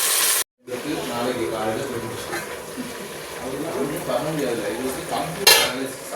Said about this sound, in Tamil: இதை நல்லா எண்ணெயிலே வதக்குவோங்க